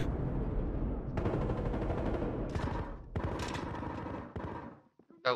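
Gunfire from a weapon in the video game Battlefield Hardline, a dense stream of loud rapid shots and bursts that keeps going, briefly breaks off, then resumes, ending in a few scattered shots.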